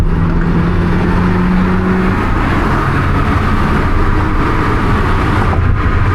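A 1064 hp Corvette C8 ZR1 driving through downtown Chicago at night, its engine and exhaust a loud continuous roar from inside the car with a steady droning tone, rising briefly.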